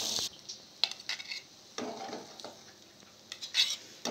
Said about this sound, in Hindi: अब आलू को मैं गोभी के साथ ऐड करूंगी और बढ़िया से इसको फ्राई करूंगी।